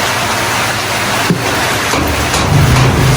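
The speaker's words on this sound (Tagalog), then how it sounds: "Palakas pa ng palakas yung ulan guys." Heavy rain pours down steadily, close and loud, as a dense broadband hiss with a few faint thuds and a low hum underneath.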